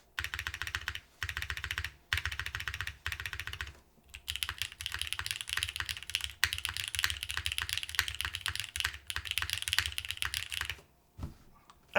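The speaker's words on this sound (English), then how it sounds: "This is a really nice sounding keyboard." A Keycult No. 3 mechanical keyboard typed on in fast, dense bursts of crisp clacks, close and clear, with brief pauses between runs and no talking.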